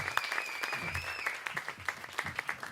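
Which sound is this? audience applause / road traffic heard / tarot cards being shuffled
audience applause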